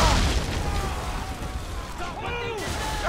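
Ship cannons fire in a naval battle in Assassin's Creed 3, with heavy booms up front fading into a rumbling wash, while voices shout over the noise.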